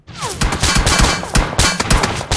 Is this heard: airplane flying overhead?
no